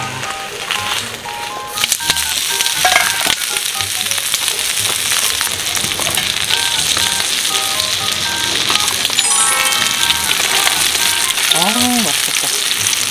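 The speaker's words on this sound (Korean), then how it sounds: "곱창이 왜 이렇게 맛있는 걸까요? 지금 두 판째 굽고 있습니다." Gopchang, beef intestines, sizzles and crackles steadily on a camping grill at a family campsite, a dense close frying hiss that runs throughout, with brief bits of talk and clatter over it.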